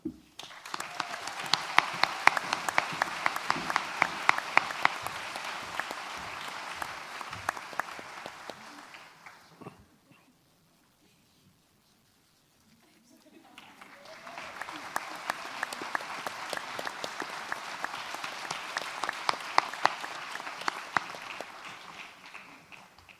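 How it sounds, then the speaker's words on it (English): A graduation ceremony audience applauds new doctors with two sustained bursts of dense, steady clapping, separated by a brief quiet gap in the hall. "Round of applause for all our new doctors."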